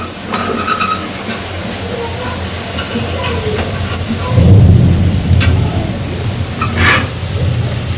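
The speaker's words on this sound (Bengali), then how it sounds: "যত বৃষ্টি পড়ছে মেঘ ডাকছে" Steady rain pours down while thunder rumbles, with a deeper roll swelling near the middle before easing back under the continuous hiss of rainfall.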